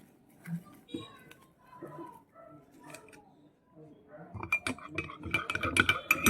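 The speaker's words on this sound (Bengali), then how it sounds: "নেড়ে নিলাম একদম সামান্য" A spoon stirs orange lime juice with black salt in a glass. Quiet, scattered clinks come first, then a louder run of rapid clinking and scraping near the end.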